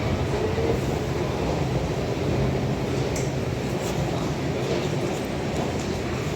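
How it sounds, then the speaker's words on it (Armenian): A train pulls into a station in Brussels with a loud, continuous rumble and rolling noise that holds steady throughout, without distinct wheel clatter or any other sound standing out. "Ահա, մեր գնացքը ոնց որ էսա կգա։"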